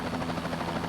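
Bell 206 JetRanger helicopter in a flight simulator game, a steady whirring rotor and turbine drone with a faint rhythmic beat, continuous and moderately loud.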